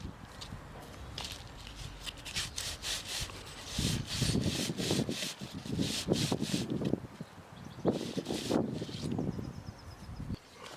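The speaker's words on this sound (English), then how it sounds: "Now use a plant pot to make a round cavity." A plant pot is pressed and twisted into garden soil to make a round cavity, giving close, repeated gritty scraping and rubbing strokes that grow denser and louder midway, with no voices.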